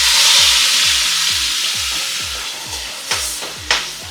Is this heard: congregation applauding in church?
no